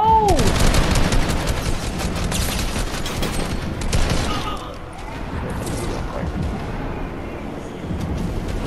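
Rapid assault rifle fire in the video game Fortnite crackles in dense bursts during the first half, then gives way to quieter background noise, with a player talking over the shooting.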